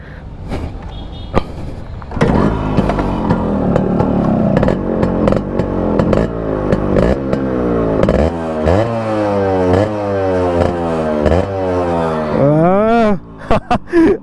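A Yamaha RX100 motorcycle engine revving up and down in repeated rising and falling sweeps, loud and close, with a sharp blip near the end.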